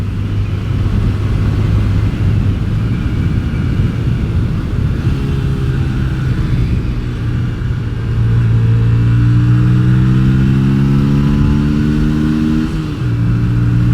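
A Yamaha Virago XV250 motorcycle fitted with pod filters accelerates hard, its engine note droning loud and close and climbing steadily in pitch as the bike gains speed, with wind noise underneath.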